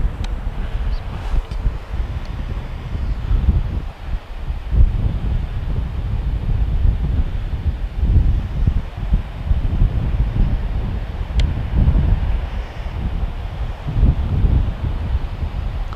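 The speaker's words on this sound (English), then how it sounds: "Lots of wind." Strong wind buffets an outdoor microphone in continuous rumbling gusts throughout, with no voices.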